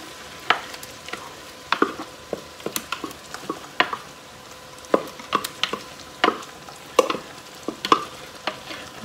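Spinach going into a pan of sizzling flour roux, with a faint steady frying hiss and repeated light scraping and stirring taps from a utensil, close and quiet, no voices.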